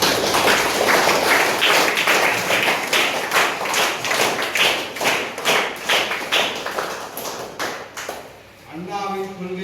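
Audience at a VCK political event distributing food and school supplies to students clapping hands together, a dense steady burst of applause lasting several seconds before tapering off, with a voice over a loudspeaker at the end.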